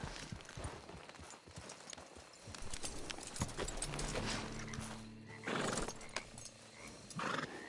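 Horse neighs and hoofbeats in the video game Red Dead Online, a whinny rising over clip-clopping hooves and ambient game noise, moderately quiet with no talk.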